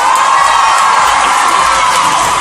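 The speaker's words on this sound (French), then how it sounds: "Du bruit pour Michel Blanc, s'il vous plaît." A large crowd at the Grand Rex in Paris cheers and whoops continuously for actor Michel Blanc, a dense roar of voices and shouts with some clapping mixed in.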